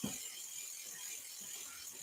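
Gears and derailleur on a dusty pre-1966 Schwinn Varsity bicycle give off a soft, steady ratcheting click, close and fairly quiet, with no voices.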